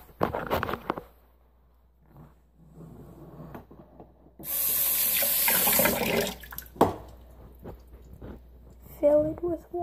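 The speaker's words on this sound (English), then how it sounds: "Fill it with water." Tap water runs into a bowl for about two seconds in a loud, steady hiss, surrounded by quieter handling clatter and a brief voice near the end.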